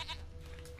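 A goat bleating in The Witcher 3, a faint, short, nasal bleat at low volume against quiet game ambience.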